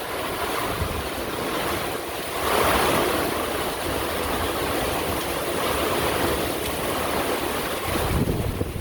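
Heavy rain and gusting wind pour down around a porch in a loud, steady, broadband roar that swells briefly partway through.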